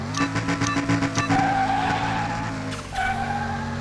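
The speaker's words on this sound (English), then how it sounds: "You hear that turbo?" Turbocharged race car on slick tires accelerating hard in Car Mechanic Simulator 2021, with a loud, steady engine drone that rises and shifts through gears, plus tire skid noise early on.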